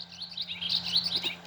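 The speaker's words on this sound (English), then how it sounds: "Bobolink" Bobolink call from a Wild Republic Audubon plush bird toy, a bubbly, tumbling run of high warbled chirps lasting over a second, heard alone against a faint steady hum.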